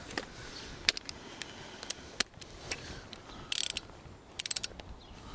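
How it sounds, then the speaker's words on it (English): Torque wrench with a socket set to 140 newton meters tightening wheel nuts on a Land Rover Discovery 3, giving faint, sparse ratcheting clicks in short bursts against a quiet background. "Just make sure I've got my torque wrench set at the right thing."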